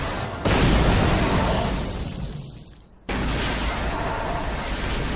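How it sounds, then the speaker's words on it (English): A huge video game explosion from Star Wars: KotOR, a loud, dense, sustained roaring blast that swells, tapers off, then cuts abruptly into another full wall of rumbling noise. "that is the biggest explosion I've ever seen in this engine"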